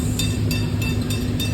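Cruise ship water park on a Carnival Mardi Gras, with a water bucket filling before it tips: a dense, steady rushing roar of water with a regular faint ticking on top.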